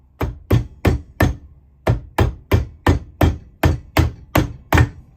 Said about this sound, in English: there's enough room in here to work this hammer